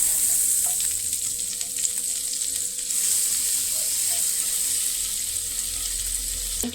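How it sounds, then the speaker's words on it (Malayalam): Butter sizzling and frying steadily in a pan as a curry base, a bright continuous crackle with no voices. "പാനിലേക്ക് നമുക്ക് ബട്ടർ ചേർത്ത് കൊടുക്കാം."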